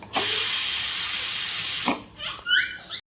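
Hot tempering (phodni) poured into cooked dal in a home kitchen gives a loud, close hiss that holds steady for about two seconds, then breaks into softer sputtering bursts before cutting off.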